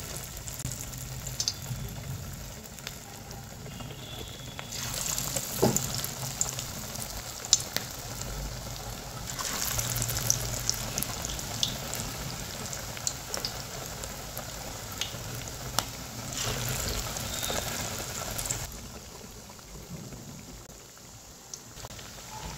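Cabbage pakoras fry in hot oil in a pan, giving a steady crackling sizzle with louder bubbling surges as pieces go in or are turned, alone without talk.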